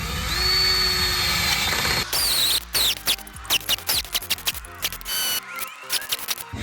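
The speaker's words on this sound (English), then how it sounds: "drill a hole as far down as you can go" A power drill bores down into a log to make a rocket stove: a steady whine at first, then a series of short bursts and stops as the bit bites into the wood, close and fairly loud.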